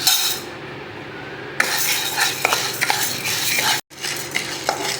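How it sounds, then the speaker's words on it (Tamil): A spoon scrapes and stirs toor dal dry-roasting without oil in a metal pan, giving a steady rustling sizzle with occasional clinks against the pan. "துவரம் பருப்பை நல்ல கோல்டன் ப்ரௌனில் வறுத்து எடுத்துக்க வேண்டியது தான்."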